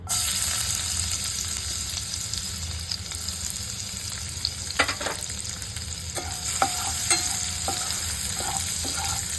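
Crushed garlic frying in oil over a low flame, a continuous close hiss and sizzle with a few soft scraping stirs and small pops partway through, no speech.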